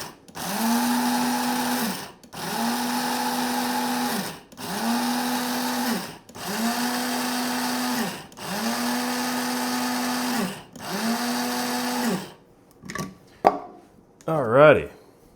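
An electric coffee grinder pulses whole coffee beans for French press brewing, six loud whirring bursts of about two seconds each separated by brief pauses, followed by a few short rattles and clunks.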